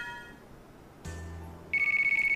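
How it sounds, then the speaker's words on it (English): A phone rings in the game Storm Lover Kai, a rapid electronic trill repeating in fast pulses, loud and close, entering after a short chime and soft background tones. "Another phone call."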